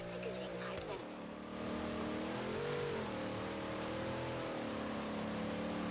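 A heavy car in Forza Horizon 3 is driven off-road through snow on Blizzard Mountain, its engine droning and shifting pitch as it climbs and revs, with someone talking over it.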